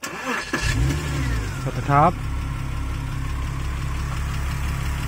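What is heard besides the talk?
Porsche Cayman engine starting then idling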